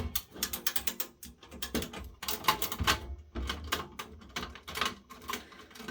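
A Torx T15 screwdriver loosens the single small screw on the bottom bracket of an HP Z440 workstation, giving close, quick runs of ratcheting clicks in uneven bursts with short pauses between.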